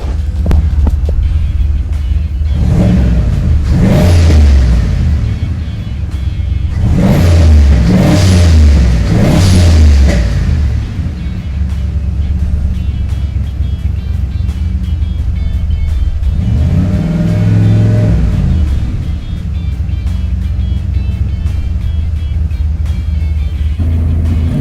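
A BMW E36 with a turbocharged LS engine swap revs up in several loud, throbbing bursts, rising and falling close by, with the engine idling roughly between pulls; no talking.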